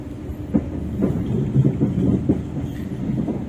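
A commuter train runs along tracks approaching Kampung Pandan station near Jakarta, heard from aboard as a steady loud rumble with rhythmic clickety-clack wheel beats over rail joints and no talking.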